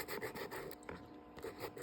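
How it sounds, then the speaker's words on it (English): A nail file rasping across a fingernail to rough the surface before gel, quiet close strokes in a quick back-and-forth rhythm. "I've been filing the nail"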